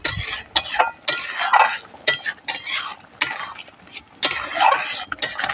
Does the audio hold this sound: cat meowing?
no